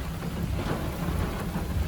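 Steady rain falls during a Friday storm, with a deep, continuous low rumble of thunder underneath, close and fairly loud throughout with no voices.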